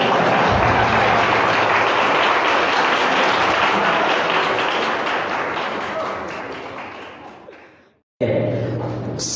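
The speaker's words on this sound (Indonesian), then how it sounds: "Tepuk tangan dah." Audience applause at an Islamic santri lecture, a dense, steady wash of clapping that holds loud for several seconds, tapers away, cuts out briefly, then resumes abruptly, with faint voices mixed in.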